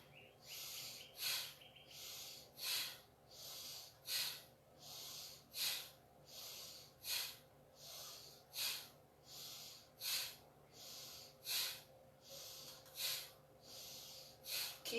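Steady circular breathing in a guided relaxation exercise, with about a dozen rhythmic breaths each lasting roughly a second, soft and close with an airy hiss and no voice over them.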